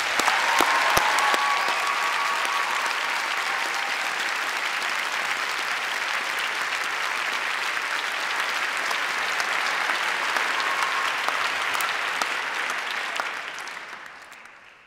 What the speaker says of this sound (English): can we give them a big round of applause to say thank you?